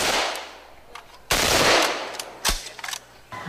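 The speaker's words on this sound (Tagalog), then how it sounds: "Obstacle course firing exercise." Gunfire rings out during a SWAT team obstacle-course firing exercise at a police competition in Davao: several loud, close shots, a heavy blast, then quicker reports, each trailing into echo.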